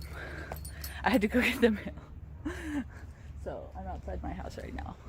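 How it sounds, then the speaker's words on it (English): A pet dog named Koga yelps and whimpers in short excited bursts just outside a house, mixed with a woman's chatter and soft rustling throughout. "That's my dog."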